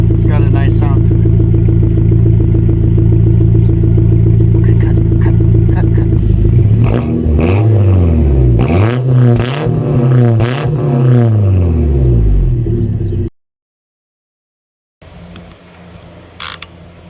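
A Yamaha V Star motorcycle engine runs loud and close with a steady idle, then revs up and down in rising and falling swells before cutting out abruptly, followed by a short silence and a softer return of sound.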